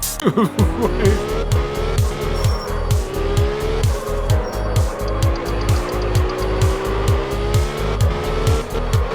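Car drifting sideways in the video game Absolute Drift Zen Edition, with a loud, steady engine drone broken by repeated rhythmic revving surges and continuous tire squeal throughout, no talk over it.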